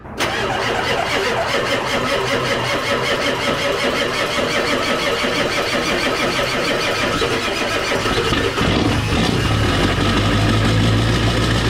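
A Ford F-250 Super Duty with a 7.3L Powerstroke diesel is cold-started without waiting for the glow plugs. It cranks, catches and settles into a loud, close, clattering idle that runs steadily to the end.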